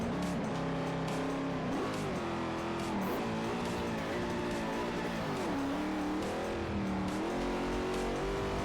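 Race car engine in the Forza Motorsport 4 video game, played with a manual transmission, roaring loud and continuous, with revs climbing and dropping between gear shifts and hints of tire squeal throughout.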